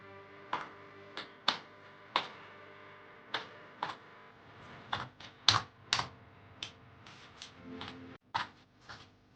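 Keystrokes on a cheap Turkish F-layout computer keyboard, typed in a timed race: a series of sharp, separate clacks at an uneven pace, close and clear, with no talking.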